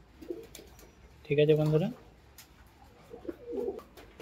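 A pigeon gives a short, deep burst of cooing, near and clear, with a softer coo following; a voice speaks briefly before it.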